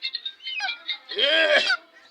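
A chicken clucks and squawks close by in a series of short calls, then lets out a longer, louder agitated cry while being handled for caponizing.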